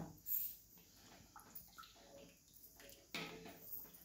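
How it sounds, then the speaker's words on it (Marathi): Hot water is poured into a cooking pot, a faint, soft splashing with a couple of brief, stronger gushes against a quiet kitchen background. "आणि जरा पाणी गरम करून ओतते बघा मी"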